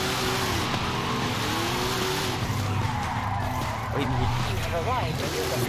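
In Forza Horizon 5, a car drifting in fifth gear gives a steady, loud tire squeal with engine drone underneath, constant throughout, while someone talks over it.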